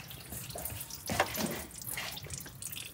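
Coolant pours out as the water pump is pulled from a Mercedes ML300 CDI V6, a short trickling splash of liquid that surges briefly mid-clip against a quiet workshop background, no talking.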